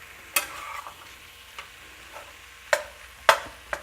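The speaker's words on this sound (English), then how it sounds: "the meat should be about ready to start to stir around" Minced meat frying in a pan with garlic powder, a quiet background sizzle broken by several sharp scraping stirs and clacks of a utensil against the pan.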